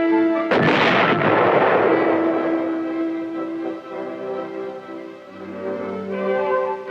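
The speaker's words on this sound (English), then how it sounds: "as the projectile leaves the muzzle and the weapon recoils" A single heavy artillery gun fires during 1969 weapons testing at Aberdeen, a sharp loud blast followed by a long rumbling, ringing decay that lingers for several seconds, heard alone.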